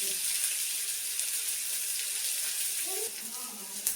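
Mustard seeds and spring onion fry in a hot pan for spinach fried rice, giving a steady, moderately faint sizzling hiss that runs throughout with little change.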